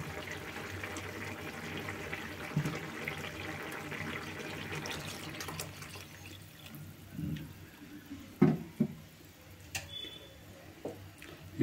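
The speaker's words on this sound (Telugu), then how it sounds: "మన పోసిన వాటర్ అయితే మరిగిపోతుంది" Water boiling in a pot at a village cooking fire, with tamarind broth added for okra pulusu. A steady bubbling hiss runs for the first half, then eases into quieter bubbling broken by scattered pops and clinks.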